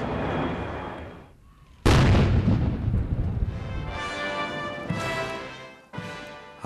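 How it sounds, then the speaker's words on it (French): Cannon fire for a royal salute marking the Queen's 90th birthday in the United Kingdom: loud, booming blasts with long rumbling tails, one after another, in an open outdoor setting. "Un hommage salué, comme le veut la tradition, par une salve de coups de canon."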